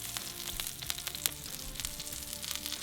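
Duck breast sears in its own rendered fat in a pan, a quiet, steady sizzle with crackling pops scattered across the few seconds, heard alone without talk.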